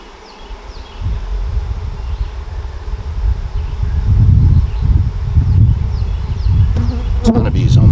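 Bees swarm loudly around an open hive frame during a beehive inspection, a dense, close buzzing hum that swells after a quiet start and carries on throughout, with light handling and rustling noises near the end.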